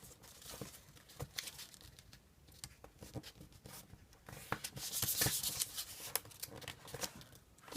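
Paper is folded and creased by hand for a DIY paper star ornament, giving close, soft crinkles, rustles and taps in an uneven rhythm that thicken into a fuller rustle near the end; no speech.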